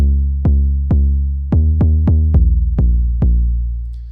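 An 808 bass synthesized in Ableton Operator with a hard filter shaper plays a deep, harmonically rich tone that is retriggered about nine times. Each note hits with a sharp attack and sustains a growling low drone in an uneven, syncopated pattern.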